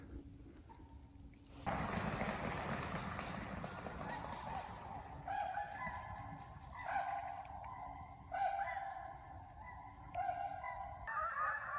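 A flock of geese honking among swans on the water, repeated overlapping calls in bursts over a steady engine-like rumble, moderately near.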